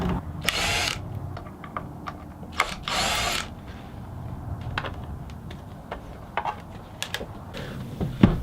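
A cordless screwdriver whirs in short bursts while screws come out of the rear control covers on a Fender Squier Showmaster guitar, mixed with small clicks and taps of parts handled close by.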